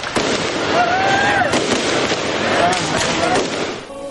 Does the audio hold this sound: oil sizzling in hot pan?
no